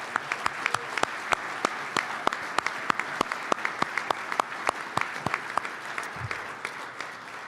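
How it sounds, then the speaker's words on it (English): A banquet crowd at a high school baseball coaches' hall of fame event claps, with steady sparse applause and distinct individual claps at moderate distance, no voices over it. "could everybody join me in giving them one more big round of applause?"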